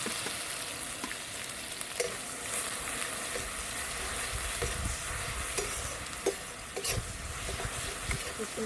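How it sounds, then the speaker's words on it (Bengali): Ground garlic paste frying in a pan for a chicken ghugni, giving a steady close sizzle with intermittent stirring clicks and scrapes throughout. "তারপর আমি দিয়ে দিচ্ছি বেটে রাখা রসুনটা।"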